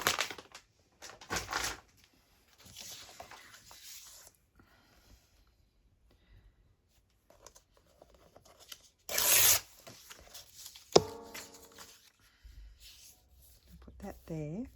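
Florentine paper being torn by hand in several short, crisp ripping bursts close to the microphone, separated by quiet pauses, with a person talking in between.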